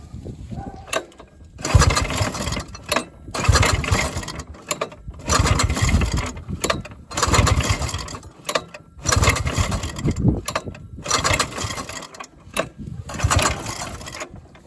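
An old snowmobile engine cranks in a series of loud, close bursts separated by short pauses, sputtering and briefly firing before dying again.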